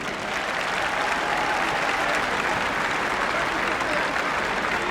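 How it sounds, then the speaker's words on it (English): A crowd applauds at the Roland Garros tennis venue, a dense, steady wash of clapping that holds at an even level for several seconds. "je vous demande d'applaudir"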